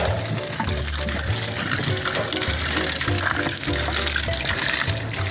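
Water gushing and splashing in a steady, continuous rush as an RV potable water tank overflows while being filled from a hose outdoors, loud and close throughout.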